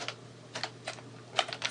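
Computer keyboard typing a command, with a few light, close keystrokes in an irregular rhythm over a quiet hum.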